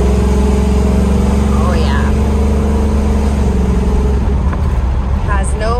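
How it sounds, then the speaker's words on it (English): A 1957 Chevrolet 3100 pickup engine hums steadily and loud from inside the cab as it takes a corner and picks up a little speed, with a voice speaking briefly over the drone. "Coming around the corner, I'm gonna give it a little gas."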